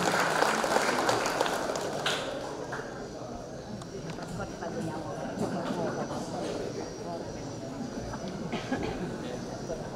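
A crowd applauds at an official inauguration and plaque-signing ceremony for development projects in Tana Tidung regency. Dense, steady clapping fills the whole stretch, fairly close and unbroken, without any speech over it.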